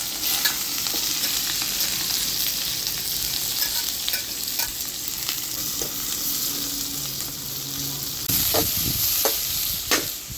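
Cardamom, black pepper, cinnamon, cloves, garlic and onion fry in hot oil over a clay stove, giving a steady close sizzle with scattered scrapes and clicks of stirring, louder stirring knocks near the end.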